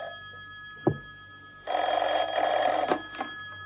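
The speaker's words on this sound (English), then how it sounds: "It wasn't until the next morning that John Steed's telephone rang." In a radio drama, a telephone bell rings in a short, clear burst that stops abruptly, with a couple of faint knocks before and after.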